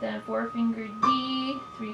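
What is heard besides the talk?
No everyday noises stand out.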